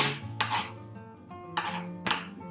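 Knife strikes on a cutting board as onion is cut into small pieces, a few distinct sharp chops spaced unevenly, close and moderately loud with faint kitchen clatter.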